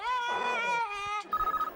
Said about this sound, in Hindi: एक मिनट, फोन आया, फोन आया।